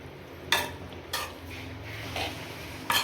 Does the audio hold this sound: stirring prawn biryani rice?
yes